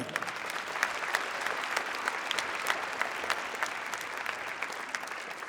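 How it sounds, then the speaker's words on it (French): Applause from a concert audience in the Jacques Brel auditorium, dense continuous clapping at moderate distance, steady and even throughout with no talk over it. "pour les remercier, rien de tel que vos applaudissements"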